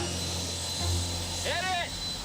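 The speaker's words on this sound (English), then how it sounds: "Hear those turbines spinning." Turbine-style car engine starting up, a steady whining hum with a rising sweeping whistle near the end, as people talk over it.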